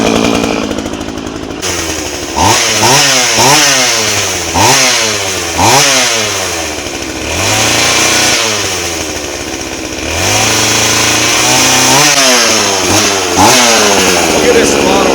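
A McCulloch Mac 3200 32cc two-stroke chainsaw engine revs hard over and over, each throttle blip rising into a loud buzzing scream and falling back to a rattling idle, in close, repeated waves.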